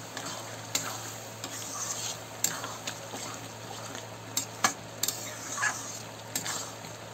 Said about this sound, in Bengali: এখন এই ছোলাটা দিয়ে আর একটু কষাবো